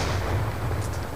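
A concussion grenade detonates in a competitive team shooter match, a brief, low rumbling boom that fills the whole short moment without talk over it.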